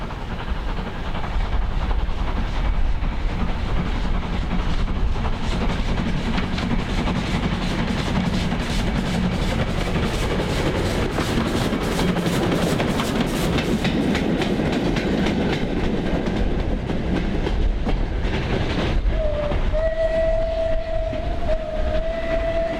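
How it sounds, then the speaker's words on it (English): Heritage steam train running on rails along the preserved line toward Rawtenstall, a steady loud rumble with rhythmic clickety-clack of wheels, and a long whistle near the end. "our train heads onwards to Rawtenstall for a return to Bury"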